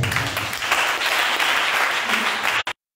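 A church congregation applauds and cheers to acclaim the Lord Jesus, a loud, dense and sustained wash of clapping that holds steady for over two seconds and then cuts off abruptly.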